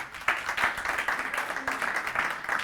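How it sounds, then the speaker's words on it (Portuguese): A church congregation applauds during a sermon, a moderate, fairly distant patter of clapping sustained throughout. "Dê Jesus uma salva de palmas."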